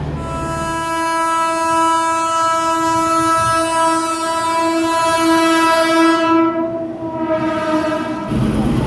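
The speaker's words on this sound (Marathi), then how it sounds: "आत्ता आले वंदे भारत एक्सप्रेस" A Vande Bharat Express train horn blares loudly and steadily for several seconds as the fast train rushes past nearby with a roaring rumble.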